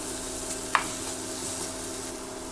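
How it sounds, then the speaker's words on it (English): Spinach and tomatoes sauté in a pan with a steady, even sizzle and a single brief clink from a utensil. No one talks. "Add the tomatoes and continue to saute."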